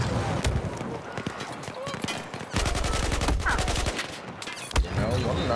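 Bursts of gunfire fill a Battlefield 4 campaign firefight, with rapid automatic fire and scattered single shots, loud and close, while a voice talks over the combat.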